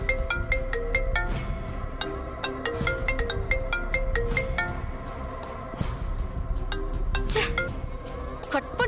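A melodic phone ringtone plays on and on as an unanswered call keeps coming in, bright repeating electronic tones in a steady rhythm, with voices talking over it.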